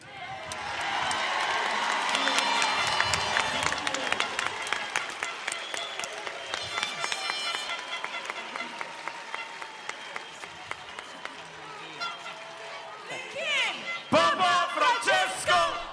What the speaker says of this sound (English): the crowd continue in great joy to shout the name of the Holy Father